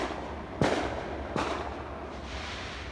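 Holiday fireworks salute on a summer night: two sharp launch bangs about a second apart, each followed by a short rumbling tail, then a fainter third pop further off, with no talking.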